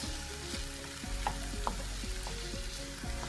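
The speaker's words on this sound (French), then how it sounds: "Mes oignons ont cuit, donc je vais rajouter les tomates. Et je vais mélanger pendant 3 minutes." Tomatoes and cooked onions frying in a pan, with a quiet, steady sizzle and a few soft utensil taps and scrapes as the mixture is stirred.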